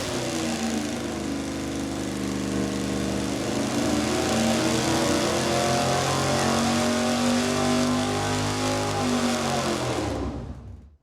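V8 engine with dual quad carburetors and a tunnel ram or cross ram intake running at steady high power on a dyno, a loud continuous roar that cuts off at the end.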